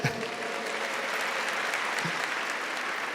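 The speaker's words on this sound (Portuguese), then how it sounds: "Uma salva de palmas para vocês." Sustained clapping from a church congregation, an even moderate wash of applause that carries on without a break and with no speech over it.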